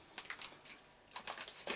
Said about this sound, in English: So I'm just going to cut that with some scissors,